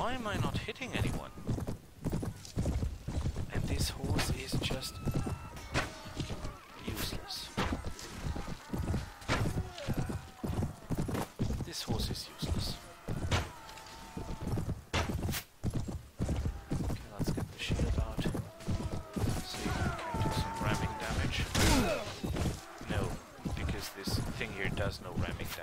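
Horse hooves clip-clop at a steady gallop through a Mount & Blade: Prophesy of Pendor battle, rapid continuous fairly loud beats, with occasional whinnies and someone talking over the action throughout.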